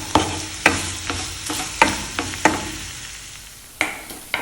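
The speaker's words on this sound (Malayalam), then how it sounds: "സവോളയെല്ലാം നന്നായിട്ടൊന്ന് വഴണ്ടിയിട്ട് വന്നു." Onions sautéing in a pan over a medium flame for a Kerala-style spicy chicken roast: a spatula scrapes and stirs at irregular intervals over a soft, steady sizzle, close by, with no talking.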